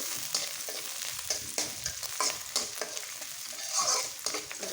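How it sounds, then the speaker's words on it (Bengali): Taki fish stirred and fried in a pan, a steady sizzle with repeated scraping strokes of the spatula at close range, no voices. "নেড়ে নিচ্ছি"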